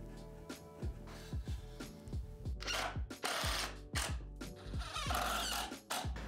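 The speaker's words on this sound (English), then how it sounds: "then drive in some screws" Screws are driven into a wooden washer-dryer pedestal with a power drill, in a series of short whirring bursts that wind down one after another, close and fairly quiet with no talking.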